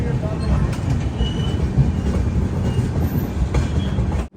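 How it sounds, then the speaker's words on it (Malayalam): The Gudur–Secunderabad Simhapuri Express passes through Gudur Junction without stopping on a rainy day: a loud, continuous rumble of wagons and wheels with faint rail clatter, close by, cutting off abruptly at the end. "ഗുഡൂർ സിക്കന്ദരാബാദ് സിംഹാപുരി എക്സ്പ്രസ് ആണ് ഇത്."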